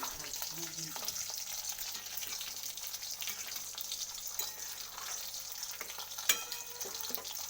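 An egg and cauliflower curry with a little ghee is stirred in a hot pan, giving a soft, even sizzle with gentle stirring scrapes and one sharp clank of the utensil late on.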